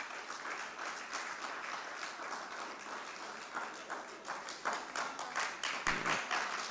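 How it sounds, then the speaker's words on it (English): A forum audience in a room gives a long round of applause, with quick dense clapping that builds louder toward the end. "give yourselves a lusty round of applause"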